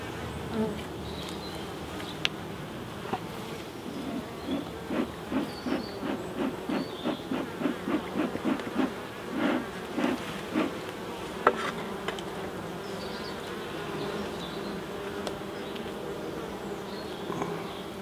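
Steady buzzing of many honeybees in a hive, a dense droning hum with rhythmic pulses of wingbeats, close and moderately loud with no talking.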